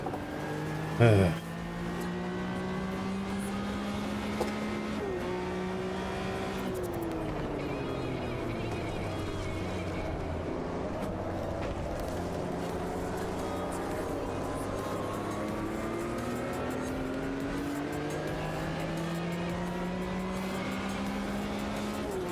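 Race cars in The Crew Motorfest video game, engines revving and shifting through gears in long rising and falling tones, with a short thump early on and continuous play throughout.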